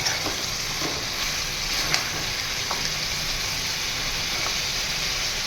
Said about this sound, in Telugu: చూడండి అల్లం వెల్లుల్లి పేస్ట్ వేసాను, కలుపుతున్నాను.